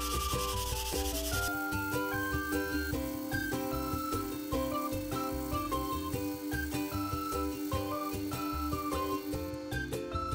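A lacquered wooden surface is hand sanded crosswise in steady rubbing strokes, partly buried under prominent background music.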